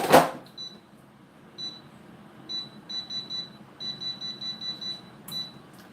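An air fryer being set emits a series of short, clear electronic beeps, single and in quick clusters, after an opening clunk, sounding close and alone in a quiet kitchen.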